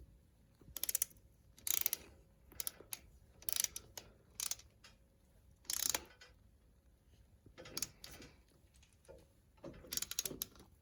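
A torque wrench tightening a bolt on a 2008 Hyundai Tiburon GS 2.0 during a timing belt and water pump job, heard as faint, quiet bursts of ratcheting clicks separated by pauses.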